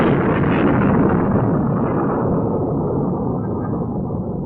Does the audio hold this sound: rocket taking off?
yes